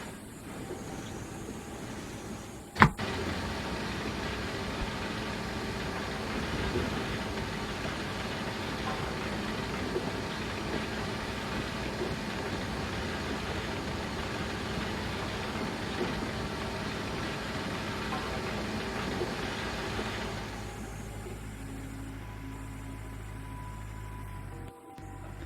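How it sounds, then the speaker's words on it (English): A big dump truck in the Gold Rush video game, a continuous heavy engine drone running steadily throughout, a sharp click early on, and the tone shifting to a lower, rougher rumble near the end. "This does seem a bit slow, but I don't know if these big dump trucks really can go too fast."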